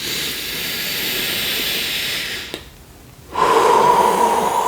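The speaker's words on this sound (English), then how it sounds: "Breathe that into your body" Close, loud breathing during a guided relaxation. A long steady exhale hisses out, then a brief quiet gap follows, then a strong deep inhale.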